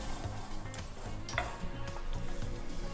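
Whole spices (bay leaf, shahi jeera, cinnamon, cloves) tossed into hot oil for leftover egg rice, crackling softly while a spoon stirs and scrapes the pan in a steady, close rhythm with light clinks.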